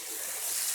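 A splash of water hits hot frying masala and boiled chickpeas in a pan, producing a sharp, close sizzling hiss that swells briefly.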